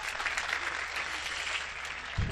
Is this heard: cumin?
no